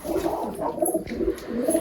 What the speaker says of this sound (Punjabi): ਤੇ ਬਾਕੀ ਬਾਈ ਕੁਝ ਕਬੂਤਰ ਆਪਣੇ ਉਧਰ ਬੈਠੇ ਆ